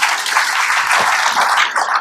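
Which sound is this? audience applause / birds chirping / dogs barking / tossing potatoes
audience applause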